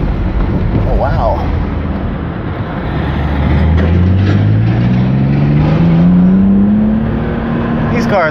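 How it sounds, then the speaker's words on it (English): A BMW E36 M3 with a newly installed exhaust revs up in one long, rising pull, loud and close from inside the car, under rough road and cabin noise with brief voices. "These cars are badass. This engine is super healthy. I love the response."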